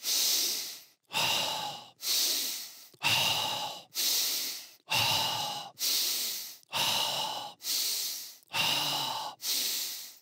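Deep, forceful breaths repeat in a steady rhythm, about ten close, loud, hissing pulls of air, each followed by a short pause, during a Tibetan yoga breathing exercise.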